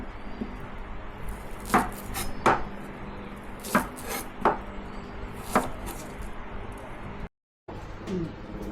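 Knife chopping mint and shallots on a cutting board in a home kitchen, a run of sharp, irregular taps close by with short pauses between strokes.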